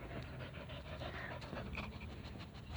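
A pet dog pants steadily and quickly, a continuous breathy rhythm heard close but faint under room noise, with no voices.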